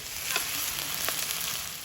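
A pinch of sugar dropped into hot cooking oil for a Bengali village chicken curry hisses in a steady close sizzle, with a few small crackling bursts and no voices.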